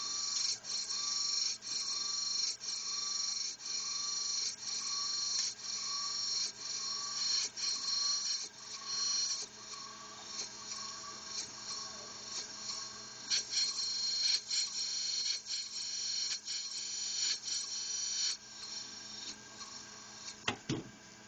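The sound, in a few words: camshaft grinding machine grinding Honda D15B cam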